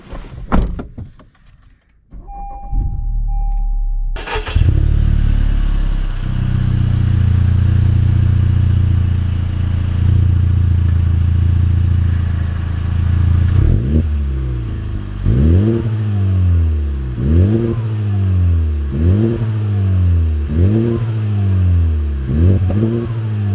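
A first-year Honda Civic Type R starts with a click and a loud engine catch, settles into a steady idle, then pulls away with repeated revs rising and dropping through gear changes, close and loud with no talk.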